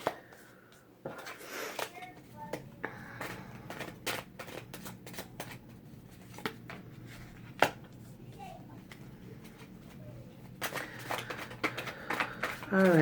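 Tarot cards are shuffled and handled in quick, papery riffles and soft slaps, a busy but quiet series of card sounds with someone talking softly over parts of it.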